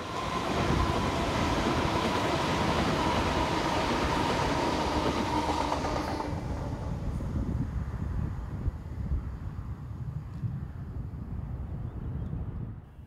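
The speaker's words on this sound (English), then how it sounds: "a 5-car Class 800 Intercity Express train approaches with a Paddington to Cheltenham" Five-car Class 800 Intercity Express train on a Paddington to Cheltenham service, a loud roaring pass with a steady whine that drops off sharply midway into a fading rumble and wind noise.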